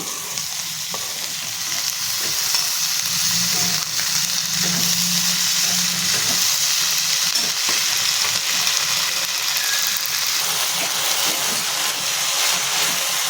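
Finely chopped spring onions frying in a pan with asafoetida and turmeric, a loud, continuous sizzle broken by stirring scrapes and clatter, close up, with no one talking.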